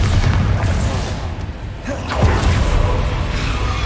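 Confringo and Bombarda spell explosions in Hogwarts Legacy, the video game: loud low booms with whooshing bursts, a first blast followed by a second surge about two seconds later, rumbling continuously throughout.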